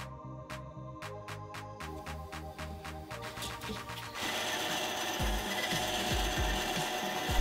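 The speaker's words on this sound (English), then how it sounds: "So I'm cutting out the shapes on the bandsaw" Bandsaw cutting knife shapes from pink glitter epoxy: a steady whirring blade hum with rhythmic clicking early, turning into a denser, harsher rasping cut in the second half, close and continuous without speech.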